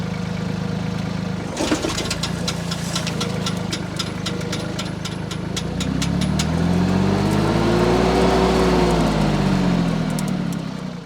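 A Woodmax MX8600 wood chipper powered by a tractor PTO starts up with a clunk and rattling clicks, then its flywheel spins up into a loud, rising mechanical whir over the idling tractor engine.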